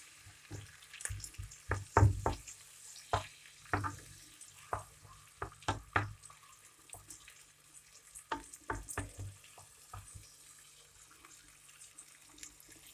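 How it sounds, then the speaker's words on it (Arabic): Shrimp cooking in oil with garlic in a pan, heard as quiet sizzling under a series of sharp scrapes and taps from a utensil stirring, irregular and close, with no talk. "دابا غنزيد هاد الكروفيت يتشحر مع هاد الزيت والثومه."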